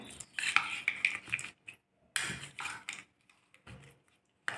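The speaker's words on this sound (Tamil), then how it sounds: "இப்போ ஒரு நல்லா மிக்ஸ் பண்ணிவிட்டு" Dry fruit salad tossed with honey in a bowl, a spoon clinking and scraping against the sides in short bursts separated by pauses, close and fairly quiet, with no talk.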